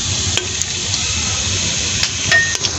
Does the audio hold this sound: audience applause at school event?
no